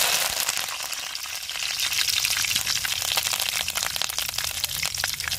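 Curry leaves crackle and sizzle loudly in hot oil in a pan, a dense continuous spatter close up with sharp pops scattered through it.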